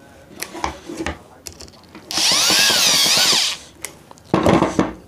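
A power tool whirs loudly in a sustained burst, then again briefly, while tightening a bolt on a reverse osmosis diaphragm booster pump, with clicks and handling noises and someone talking in between.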